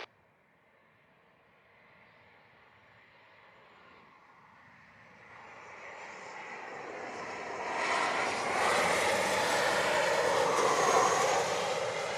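A Delta jet airliner approaching to land on runway 25 in Jamaica, its engine roar starting faint and distant and swelling steadily louder and broader as it nears, with no talk.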